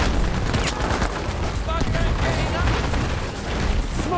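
Heavy gunfire and explosions rumble through a Battlefield V firefight, a dense, continuous barrage of shots and booms with a voice talking over the chaos.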